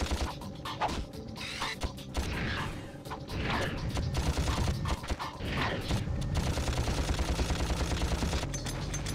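A blaster in the Ratchet & Clank video game fires rapidly, a steady stream of sharp shots over layered mechanical game sounds, loud and continuous throughout.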